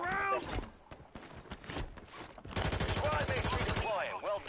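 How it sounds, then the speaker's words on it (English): Rapid gunfire from a multiplayer shooter match, a sustained burst of repeated shots in the middle stretch with scattered single shots around it, heard alongside in-game chatter and other voices. "Oh, they're shooting at me."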